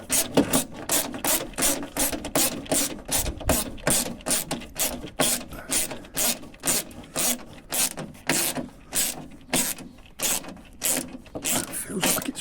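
Ratcheting clicks as a window regulator is worked into a Vauxhall Royale Coupe door, a quick regular series of sharp mechanical clicks and rubbing, close and fairly quiet, with no talk.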